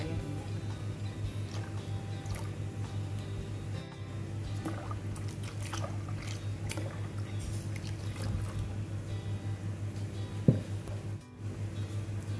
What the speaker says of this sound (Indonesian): Ini susu cair juga masukkan di sini. Ini sisa airnya.